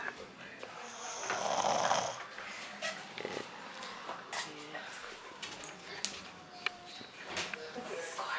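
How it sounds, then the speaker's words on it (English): A sleeping young boy with enlarged adenoids snores softly in a quiet room, slow raspy breaths rising and falling, faint and close. "Snoring. Out cold."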